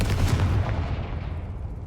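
A Confringo fire-blast spell goes off in Hogwarts Legacy, a short booming explosion with a dense rumbling burst that decays over about two seconds, loud and close with no speech.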